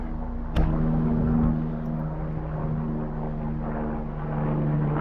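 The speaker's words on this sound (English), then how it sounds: "That is the Life Flight helicopter." Life Flight medical helicopter passing overhead at a distance, a steady low rotor drone that holds throughout with a brief swell near the start, heard alone outdoors in a rural woodland.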